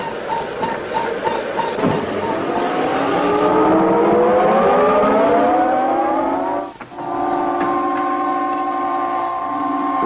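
A rocket ship lifts off with a rising, whining engine roar that climbs steadily in pitch, swells loud, cuts out briefly, then settles into a steady humming drone.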